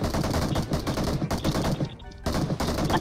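Rapid bursts of automatic gunfire in PUBG Mobile crackle nonstop, loud and close, with a brief lull near the end before the shooting resumes.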